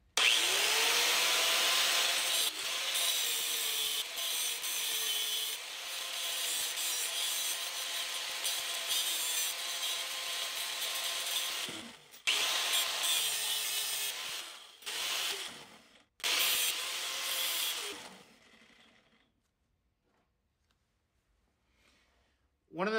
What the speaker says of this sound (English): we'll do that just doing separate passes with the grinder against the hatchet head